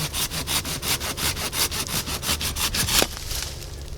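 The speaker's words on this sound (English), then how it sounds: "I'll probably be going after them with the pruning saw here" A pruning saw cuts through thick shrub stems in a garden, giving a close, steady run of rhythmic rasping back-and-forth strokes that stops abruptly near the end.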